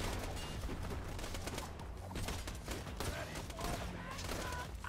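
Dense, continuous gunfire from a Borderlands video game, rapid overlapping shots and bursts filling the whole stretch with loud, busy game noise and some talk mixed in.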